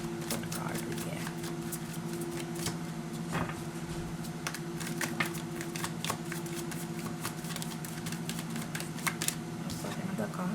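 Tarot cards are shuffled in a rapid, crisp riffle of paper flicks that runs steadily throughout, with a faint hum underneath.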